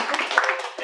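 An audience at a roast applauds for Gary Pettigrew in a brief, steady burst of clapping, with crowd noise mixed in.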